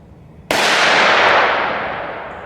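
A single loud Taurus 605 revolver shot with hot ammunition cracks at a shooting range, its sharp blast followed by a long ringing decay.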